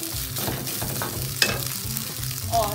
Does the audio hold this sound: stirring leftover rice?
yes